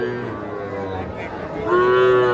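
A cow at a busy cattle market lets out a loud, close moo that swells near the end, rising over a murmur of background crowd chatter.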